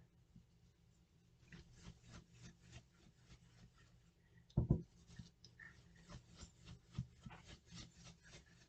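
A coloring tool rubs and scratches across a paper envelope in soft, quiet, repeated strokes with a slightly scratchy texture, one brief louder scrape near the middle, no talking.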